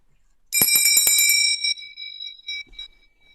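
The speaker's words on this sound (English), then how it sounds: "I went up the stairs and rang the bell of number 2" A doorbell at a flat up a flight of stairs rings, a sharp burst of bright metallic chimes that then fades into lingering tones, heard alone and close.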